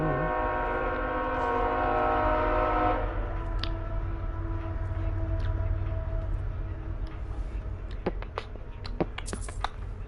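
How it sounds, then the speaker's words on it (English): A train passing at a distance, a sustained horn tone sounding at the start before fading into a low steady rumble, with sharp clicks and clacks scattered near the end. "I don't know if you can hear it, but here comes the train"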